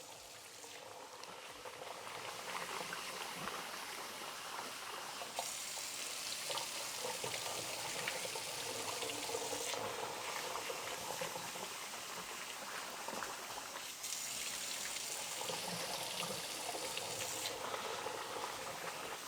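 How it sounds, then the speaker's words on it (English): Hot tap water runs steadily over rice being rinsed, a close, constant hissing splash that keeps going with slight changes in tone as the grains are stirred. "Rinse it under hot water. You wanna make sure the water goes clear."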